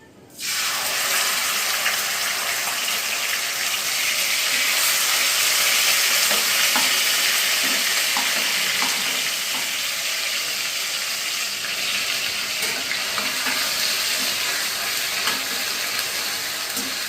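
Onion and tomato paste added to a hot frying pan for dahi katla, starting with a sudden loud burst of hissing sizzle that keeps on steadily, with faint scraping stirs underneath.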